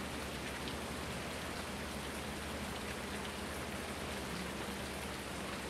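Steady rain pours in the farming game Farming Simulator 19, a dense, even hiss of drops on surfaces holding constant throughout.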